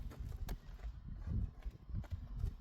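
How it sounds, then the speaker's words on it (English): A horse shifts and steps restlessly during bridling, its hooves thudding and clopping in an uneven, close series of soft footfalls. "The horse is dancing a little bit."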